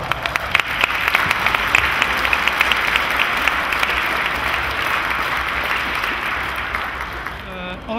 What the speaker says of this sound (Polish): Dla wszystkich bardzo proszę o rękę brawa.